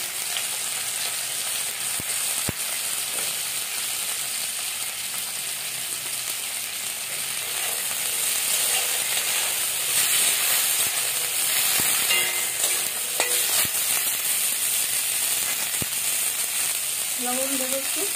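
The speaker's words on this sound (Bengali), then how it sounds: "আলুর তেলেই আমি উচ্ছেটা ভেজে নেব।" Bitter gourd sizzles in leftover oil from fried potatoes, a steady bright crackle throughout, close and continuous with faint occasional stirring.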